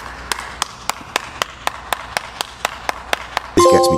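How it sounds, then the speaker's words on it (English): A dozen sharp, evenly spaced claps ring out alone at a steady rhythm, loud and close, before an abrupt burst of game sound cuts in at the end. "Can we just get a round of applause for this man right now"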